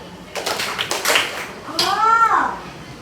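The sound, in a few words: people clapping their hands twice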